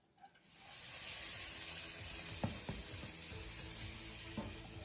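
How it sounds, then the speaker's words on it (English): Spice paste and onions fry in a pan, a soft steady sizzle with a few faint clicks, quiet and close, with no talk. "So we've got our spice paste nicely fried off with the onions, smelling delicious"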